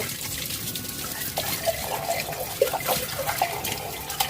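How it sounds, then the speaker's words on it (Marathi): Tap water runs steadily while a clay pot for setting homemade curd is washed, with a few small splashes and clinks close by and no talking. "मडक्याचं छान धुवून घ्यायचं"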